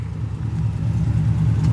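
A fifth-generation Chevrolet Camaro SS idles through a single-chamber muffler exhaust, giving a deep, steady low rumble with a slight pulsing throb, close and loud with no talk.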